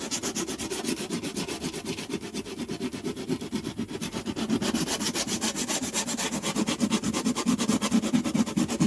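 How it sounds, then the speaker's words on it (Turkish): Steady back-and-forth rasping of a sanding block rubbing across the wood of a classical guitar bridge under repair, close and continuous, growing slightly louder toward the end. "Şimdi burayı güzel hafif bir zımpara yapalım."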